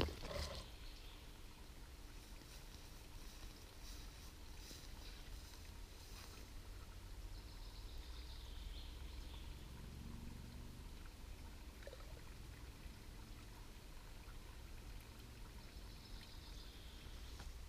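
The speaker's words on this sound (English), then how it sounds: "while we're waiting for our bucket to fill up with a millbank bag" Water trickles and pours steadily through a Millbank bag filter into a collapsible bucket at a campsite in Mora, Sweden, making a continuous close-up dribbling stream with no talk.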